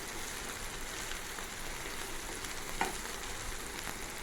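Chopped onion fries steadily in a pan, a close, even sizzle with a brief clink partway through and no talk.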